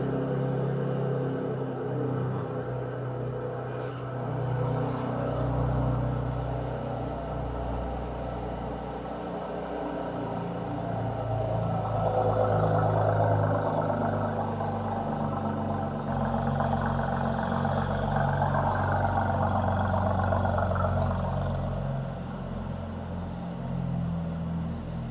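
A Brabus car sits idling with its exhaust valves open, giving a steady low rumbling burble that swells slightly partway through and stays close and continuous, with no talk.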